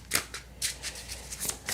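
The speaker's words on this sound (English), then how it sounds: "One more shuffle." Tarot cards being shuffled up close, a short run of quick riffling bursts that are soft and papery, with no talking over them.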